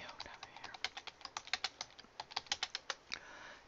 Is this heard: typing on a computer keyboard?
yes